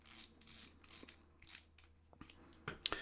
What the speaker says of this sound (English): Daiwa type clicker